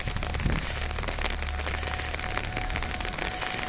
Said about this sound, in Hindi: तेज बारिश की चपेट में।